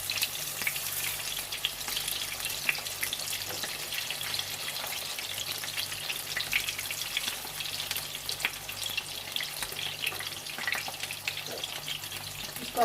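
Minced meat kebabs fry steadily in a pan on a moderate flame, giving a continuous close crackling sizzle that stays fairly even throughout, with no talking.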